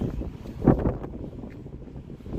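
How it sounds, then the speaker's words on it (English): Strong wind gusting along the Chicago lakefront, buffeting the microphone as a low rumbling roar that swells sharply once and then settles into a steadier blustery wash. "Yeah, the wind's picking up. It's getting nasty."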